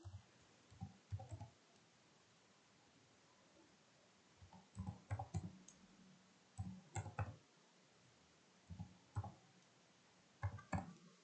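Numbers are typed on a computer keyboard in short bursts of quiet, close key clicks separated by pauses, faint against a low background hiss with no talk.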